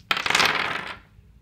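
A handful of dice tumbling together across a hard surface for about a second, a bright clattering burst that rattles on and fades out, heard alone and close.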